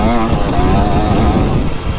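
A 2025 KTM 300XCW Champion Edition dirt bike engine holds partial throttle over choppy, rough ground, giving a steady, close, buzzing engine drone that stays loud and even for the whole stretch with no talk.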